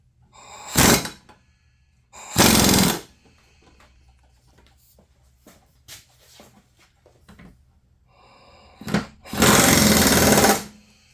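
An impact wrench works on the 48-inch deck of a Scotts / John Deere lawn tractor mower, giving loud, close, rattling bursts: two short ones early, then a quiet stretch with faint clanks, then two more bursts, the last one longer.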